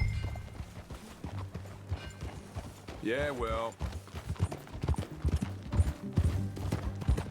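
Horse hooves clip-clop in a steady trot beneath people talking in Red Dead Redemption 2, with a brief whinny-like call partway through.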